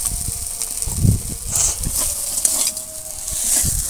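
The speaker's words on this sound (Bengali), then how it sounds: "তারপর দিয়ে দেবো ভেজে রাখা মাছগুলো।" Fried fish being stirred into a potato and mustard curry in a pan, a sizzle that goes on the whole time under repeated scraping stirs and low knocks, close and fairly loud, with no talk.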